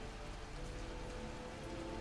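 Steady rain pours in a video game scene, a dense, even hiss of falling drops with no voices over it.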